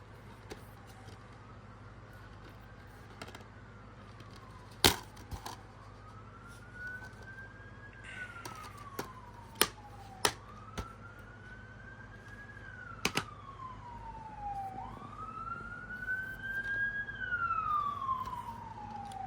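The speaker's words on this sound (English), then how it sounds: "Sorry for the siren in the background." A police siren wails in the background, rising and falling in slow sweeps throughout, with several sharp clicks and knocks closer by and a steady low hum underneath.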